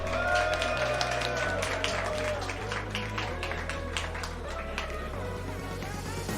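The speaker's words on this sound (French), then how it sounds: "Un tonnerre d'applaudissements." Audience applause at a men's rubber beauty pageant final in Paris, a steady dense clapping wash running throughout under loud stage music, with no clear break.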